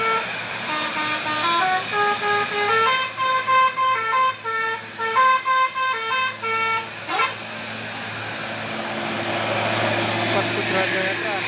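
Arista Union Trans bus sounding its musical telolet horn, a loud run of clear tooting notes in a rhythmic melody, followed by a rising engine and traffic noise.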